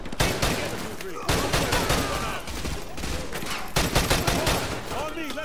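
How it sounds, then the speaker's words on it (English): Heavy gunfire from the Call of Duty: Modern Warfare 2 campaign remastered, a loud, near, dense barrage of rapid automatic bursts and overlapping shots that continues with only brief dips in intensity. "We are taking heavy fire from the school."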